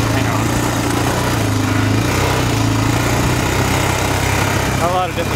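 An ATV engine drones steadily and loudly while riding over sandy desert whoops in southern New Mexico, a continuous close rumble with slight pitch wavering throughout, ending with a brief voice near the end.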